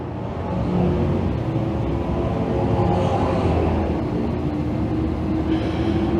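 Race cars roar past on an oval racetrack, a continuous dense engine rumble holding steady and loud throughout with no clear gaps between passes.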